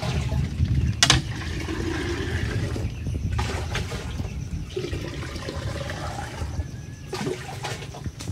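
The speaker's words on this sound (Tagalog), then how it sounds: "lalagyan ko muna sila ng tubig" Water poured into chicken waterers on a farm, a steady splashing, gurgling stream close by with a few louder splashes and brief pauses.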